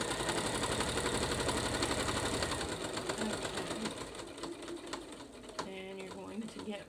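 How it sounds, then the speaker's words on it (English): A loud, worn sewing machine sewing a seam, its rapid needle hammering out a fast, steady mechanical rhythm up close that slows and thins toward the end, with a voice talking briefly near the finish. "that machine is so loud, the needle, plus it's probably not in the best shape"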